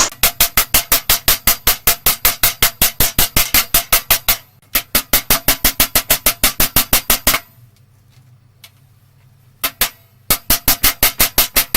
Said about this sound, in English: basically just hammer it